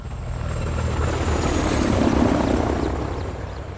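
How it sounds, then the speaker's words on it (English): Helicopter approaching in a video game, a steady rotor drone and engine roar that swells slightly toward the middle and holds loud throughout, with no talk over it. "Got a heli incoming."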